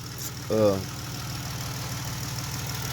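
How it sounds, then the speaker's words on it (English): A car engine idles steadily with a low, even rumble and faint rhythmic valve ticking; a short vocal sound briefly cuts in near the start. "don't panic if you start your car 3 days later and it's making a ticking noise"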